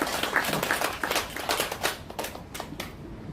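Congregation clapping at a church prayer meeting in Korea, a scattered, fairly quiet patter of hands that thins out toward the end.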